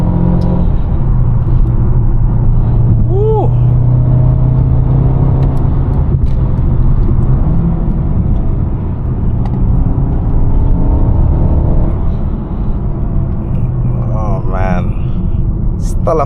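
A 2021 Mercedes-Benz A250, 226 hp with a seven-speed dual-clutch gearbox, pulls hard at full throttle from inside the cabin, a steady loud engine drone and road rumble rising through gears while someone talks over it.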